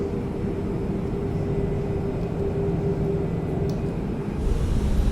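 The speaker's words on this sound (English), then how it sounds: "Let's go listen to the sounds on takeoff" Steady, loud jet engine roar of an Airbus A340-600 airliner on takeoff in Microsoft Flight Simulator, with a constant low rumble and a faint whine, swelling slightly near the end, with no voices.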